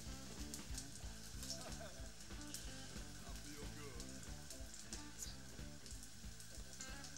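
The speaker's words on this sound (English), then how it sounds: "then you put it on to the fried pan" Rissole mixture pressed flat fries in an oiled pan, a faint steady sizzle with light bursts of spattering throughout.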